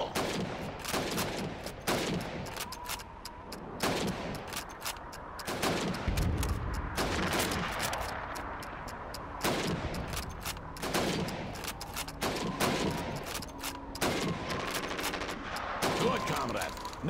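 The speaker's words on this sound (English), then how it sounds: "You have 15 seconds to shoot the helmets." Rifle fire at helmet targets during Red Army training in the Call of Duty 2 video game: rapid, repeated sharp shots in irregular bursts over about seventeen seconds, with faint game sounds between them.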